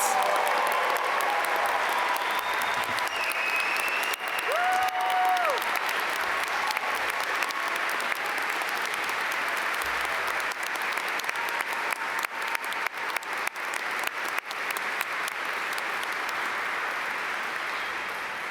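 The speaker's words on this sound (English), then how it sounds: "everyone give them a huge round of applause" A large audience at a Duke MBA graduation ceremony gives a long, steady round of applause, a dense wash of clapping that holds at an even level for the whole stretch, with a few brief tonal calls faint above it.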